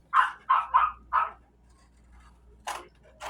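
Dogs outdoors bark at people putting up a garden fence: four quick, sharp barks in a row, a pause, then two more, all at moderate distance over a faint background hum.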